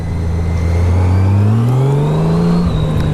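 A 2014 Honda Valkyrie motorcycle engine pulls loud and close, its pitch climbing steadily as the rider accelerates on an outdoor ride, then dropping briefly near the end; no talking.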